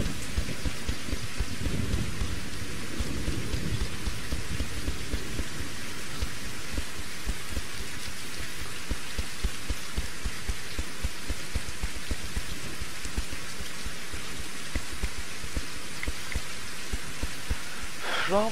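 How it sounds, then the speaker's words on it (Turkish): Steady heavy rain hisses and patters densely throughout a night scene in the video game Reign of Kings, with low rumbling underneath, continuous and even with no clear voices. "Yağmur başladı."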